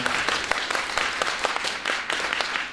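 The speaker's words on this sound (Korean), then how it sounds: "박수 부탁드리겠습니다" An audience claps together at a startup investment talk show, dense steady applause filling the room for a few seconds with no speech over it.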